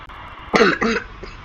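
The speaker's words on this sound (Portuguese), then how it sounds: "Desculpe, tô meio começando a tossir assim" A person coughs twice in quick succession, close and fairly loud, with a faint throat sound after, against a quiet background.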